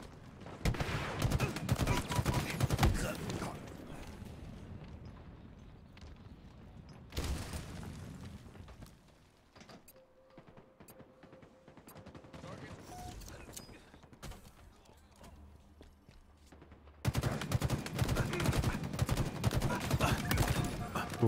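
Bursts of shooter-game gunfire, heavy and dense in the opening seconds and again near the end, with a quieter stretch of mechanical creaks and a faint tone between.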